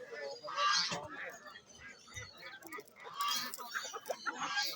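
Roosters and other fowl cluck and squawk in bursts at a bird bazaar in Margilan, Fergana, mixed with nearby talk and market bustle.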